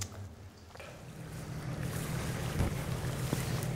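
Boats passing on the Waal river beside Fort Pannerden, heard as a steady low engine rumble mixed with wind buffeting and lapping water, gradually growing louder.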